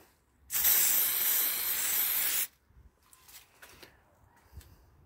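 A spray can hisses steadily for about two seconds while painting a rear wiper from a Honda Vamos HM2, then stops, followed by faint handling noises.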